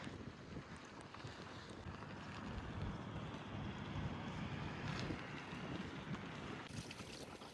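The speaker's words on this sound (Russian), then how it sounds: "Но ветер просто ужасный." Strong spring wind gusts outdoors in Ukhta, Komi Republic, on a warm May day: a steady, broadband roar of buffeting against the microphone, swelling slightly midway and continuing throughout without speech.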